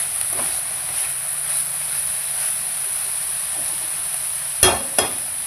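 Onions frying in a pan until reddish, a steady soft sizzle running throughout with two brief stirring clatters near the end.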